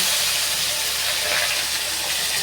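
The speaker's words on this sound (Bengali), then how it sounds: "আলু লাল লাল করে ভাজা হতে থাক, ভেজে নেব।" Cut potatoes fry in oil flavored with black cumin seed, in oil left from frying fish, making a loud, dense, continuous hiss and sizzle that stays even throughout.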